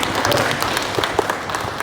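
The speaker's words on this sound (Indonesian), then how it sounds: "Tepuk tangan buat PWI." A crowd applauds at a journalists' association event, dense steady clapping filling the short stretch at moderate loudness with no pause.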